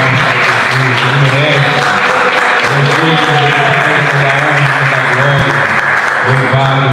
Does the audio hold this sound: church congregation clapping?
yes